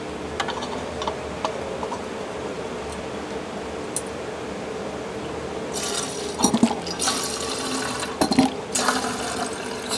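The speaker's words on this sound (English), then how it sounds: "Next step will be filling up the alcohol tank." Alcohol trickles and splashes into the fuel tank of an Aster LNER B1 live steam model locomotive, with soft ticks early on and louder bursts of pouring and clinks in the final seconds, no speech.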